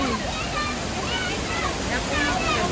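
A waterfall roars continuously nearby, a loud steady wash of falling water, with voices talking over it.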